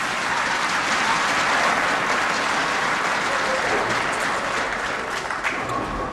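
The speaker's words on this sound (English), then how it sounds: "make sure you clap the PA" Sustained, dense applause fills a bowling center at the 2007 Spartanburg Classic as the crowd claps for the bowler PA, steady and fairly loud throughout with no clear voices on top.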